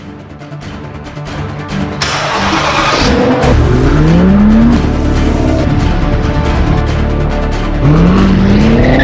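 An Audi A3 on 18-inch wheels pulls away and accelerates, its engine note climbing steadily and loud, then dropping back and rising again as it gathers speed, with road and tire noise underneath.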